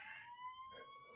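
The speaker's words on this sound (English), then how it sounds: "Oh no, I think it's a fire truck." Siren of a fire truck passing outside near a fire station, a faint, distant wailing tone with a steady rising pitch line, heard through a quiet outdoor night setting.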